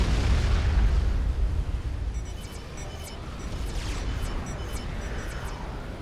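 Heavy artillery fire in a large battle in Supreme Commander: Forged Alliance, T3 artillery pounding an island, with a deep booming rumble that starts loud and settles into a continuous dense roar.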